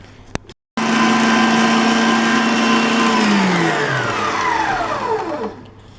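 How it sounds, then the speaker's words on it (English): An electric mixer beating unsalted butter with sugar for cupcakes switches on after a brief click, whirs loudly and steadily, then slows and winds down near the end. "It's going to be around 5-6 minutes beating the sugar with the unsalted butter."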